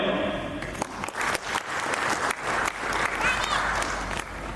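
An audience applauds at a gathering of agricultural social media creators, with sustained dense clapping filling the room and a voice briefly heard over it at the start.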